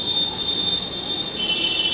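A multimeter set to buzzer mode beeps while testing a mobile phone microphone's plus and minus terminals, giving a steady high-pitched electronic tone through the whole stretch over faint room noise, with the pitch shifting slightly near the end.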